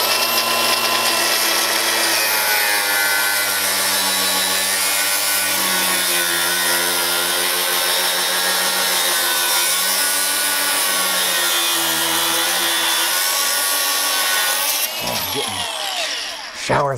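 An angle grinder cuts into the battery tray of a 2001 EZGO TXT 36-volt electric golf cart, giving a loud, steady, sustained grinding whine that drifts in pitch and runs nearly the whole time before cutting off near the end.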